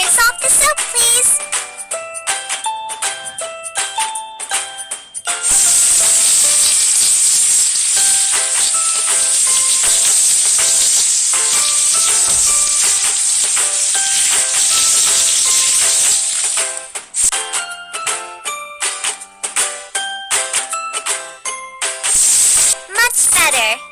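A kids' cleaning video game plays a loud, steady hissing spray of water rinsing off soap, framed by bright tinkling chimes and game jingles before and after.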